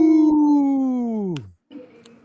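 A single long, loud howl from a wolf, a clear sustained tone that slides steadily down and fades out, followed by a faint brief whine.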